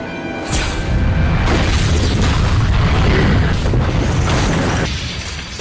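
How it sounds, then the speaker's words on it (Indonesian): A film explosion erupts with a loud, sustained boom and rumbling blast after a brief mechanical clatter, filling several seconds with dense roaring debris. "pasca ledakan yang menewaskan Eugene dan Claire barusan"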